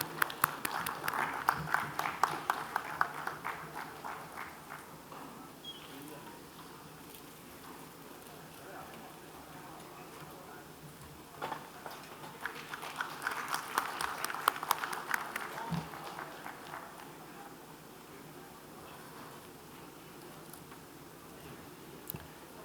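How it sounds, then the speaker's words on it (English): Applause from an audience at an award ceremony during a stock market technology event in Ahmedabad, a broad steady clapping wash that swells twice at moderate distance. "Can we have a big round of applause"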